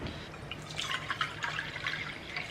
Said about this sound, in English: Hold this over and I'll pour the water in.